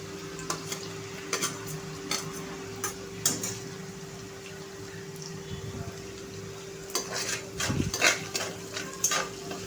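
Green chilies dropped into a pan with chopped ginger, frying quietly while a spoon stirs and scrapes the metal in irregular bursts, with a steady low hum under the clatter.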